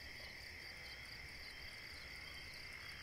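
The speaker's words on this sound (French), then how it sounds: "La nuit, les grillons font la loi." A steady, unbroken chorus of crickets chirping at night, high and continuous, fairly faint with a soft background hiss.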